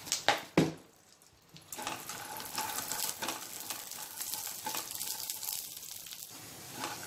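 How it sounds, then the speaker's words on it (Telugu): Peanuts with four green chillies frying in a little oil in a pan over medium flame, a steady soft sizzle running on after a few sharp knocks and scrapes at the start. "ఒక కప్పు పల్లీలని వేయించుకోవాలి మీడియం ఫ్లేమ్ పైన"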